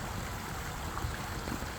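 Water runs steadily through an ecosystem pond and fountain at a dental center in Dexter, Michigan, a constant close rushing and gurgling with no voices.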